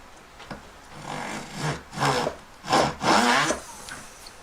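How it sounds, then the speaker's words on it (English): A power drill whirs in several short bursts, pausing between each one, as it bores out a hole in a hand-made collet up close. "so I'm just going to drill it out"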